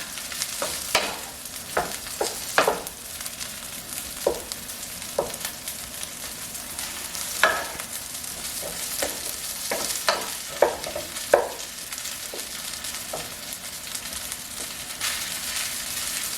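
Refrigerated rice being stir-fried in butter, with a steady sizzle broken by repeated scraping and clinking stir strokes at close range, and no voices.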